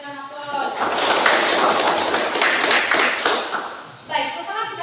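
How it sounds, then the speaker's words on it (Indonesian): A classroom breaks into applause during a primary science lesson: a burst of many hands clapping swells, lasts about three seconds and fades, with a teacher's voice talking before and after it. "Mari kita berikan aplaus."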